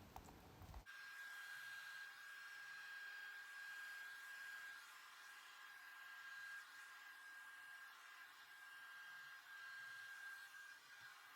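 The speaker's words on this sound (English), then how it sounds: "I'm going to use a blow dryer" Blow dryer pushing acrylic paint across a large canvas in a Dutch pour, running as a steady, even whirring hum with a faint whine after a brief start, loud and uninterrupted throughout.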